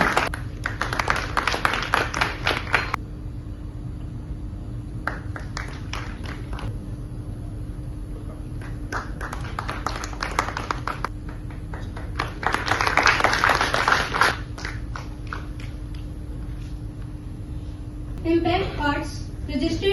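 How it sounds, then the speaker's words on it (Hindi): Applause from a theatre festival audience rises in bursts of dense clapping, fading and swelling again across the stretch, with a steady hum underneath and a voice breaking in near the end. "तालियां।"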